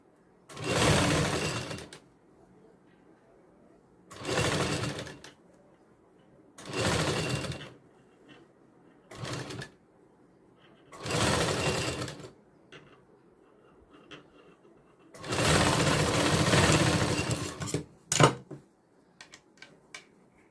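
A sewing machine stitches a katori blouse in six separate bursts of running, each lasting a second or two with pauses between them, close and fairly loud with no voices.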